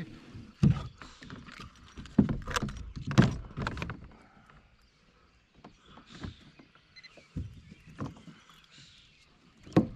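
Kayak paddles dip and splash through the water during early-morning fishing, irregular close strokes and knocks against the hull, loud bursts separated by quieter gaps.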